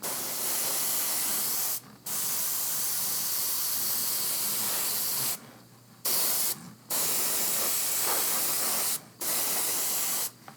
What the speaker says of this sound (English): So as far as airbrushing is concerned, that's it.